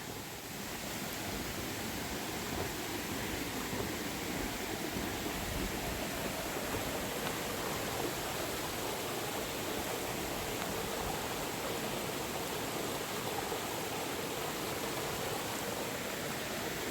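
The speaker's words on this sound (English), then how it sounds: "Well, that's where the falls is." A waterfall on the Devils Path hike in the Catskills, heard as a steady, unbroken rush of broadband water noise at a fairly low level, unchanging from start to finish with no voices.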